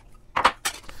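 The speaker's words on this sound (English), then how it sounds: "Get your ice, add your ice" Ice cubes drop into a cocktail shaker for a Cap'n Coco daiquiri: two or three quick, bright clinks and clatters close by, then quiet.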